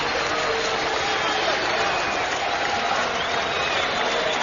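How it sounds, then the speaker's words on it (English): Dense, steady applause and cheering from a large crowd at a title boxing fight after the final bell, loud and continuous with no pauses. "And the crowd showing its appreciation."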